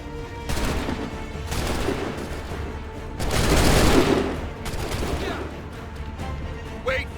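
Musket volleys crack out on command in Assassin's Creed 3, a loud ragged fusillade of many shots with a heavier burst in the middle, the firing rolling and echoing across the field.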